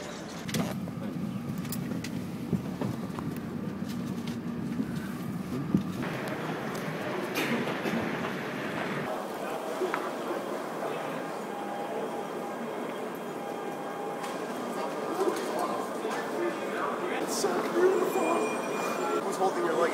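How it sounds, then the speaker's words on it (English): A passenger train running on its rails, with steady broadband rumble and rail noise throughout and a shift in texture partway through, as people talk occasionally over it. "We're by ourselves on the train."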